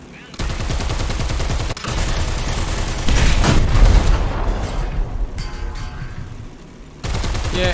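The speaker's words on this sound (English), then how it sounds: "every tank is a broken MG at the moment, they just fire straight ahead" Tank machine guns in War Thunder rattling in long, rapid bursts, loud and close, with brief pauses between strings of shots and a heavier cluster of fire partway through.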